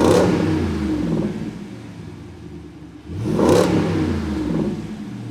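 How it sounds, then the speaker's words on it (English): A HEMI Jeep Wrangler 392 fitted with a MagnaFlow Street Series exhaust revs twice, each blip a loud, close, deep burble that swells and then settles back to a rumbling idle. "this MagnaFlow Street Series exhaust. This mimics the factory exhaust, but sounds so much better"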